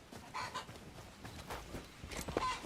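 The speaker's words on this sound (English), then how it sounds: "Chickens." Chickens clucking in the video game Hytale, faint, scattered clucks and squawks at a quiet level amid soft game ambience.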